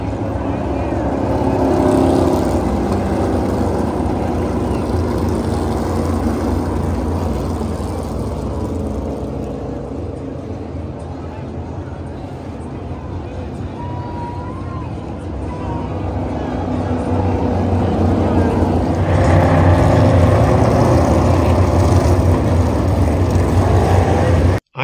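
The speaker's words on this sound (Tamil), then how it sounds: "அங்க உள்ள க்ரௌடோட சத்தத்தையும் காரோட சத்தத்தையும் பாருங்க" NASCAR race cars roar continuously at an Atlanta speedway, a loud sustained engine drone that swells near the end over crowd noise.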